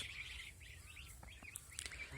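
Ducks on a duck farm give faint, scattered calls and chirps over a low background hum, brief and somewhat distant.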